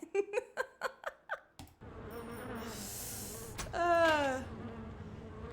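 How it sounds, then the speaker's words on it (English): Bees buzz in the Nancy Drew: The Phantom of Venice game, a steady droning hum rising and swelling loudly near the end, preceded by a quick run of short plucked tones. "these are some nasty bees with some nasty stingers"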